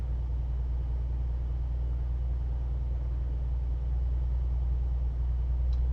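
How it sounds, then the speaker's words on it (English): A truck engine in Euro Truck Simulator 2 drones with a steady, low rumble, like a heavy truck cruising or idling. The sound is even and continuous, with no other noises. "with this patch, the trucks seem to be a little bit louder"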